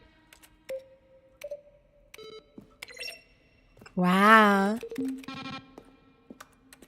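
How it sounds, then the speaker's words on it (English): Sparse synthesized button-press tones in Stanley Parable Ultra Deluxe, each a keyboard strike blended with a synth note, scattered soft ticks and short tonal blips, with a person's voice briefly breaking in midway. "Each sound is a mix of a keyboard striking a synthesizer sound."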